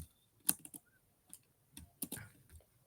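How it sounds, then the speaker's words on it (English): A computer keyboard is tapped to enter a git push command, producing a few sparse, quiet clicks and keystrokes spaced irregularly over a near-silent room. "So just type in git push"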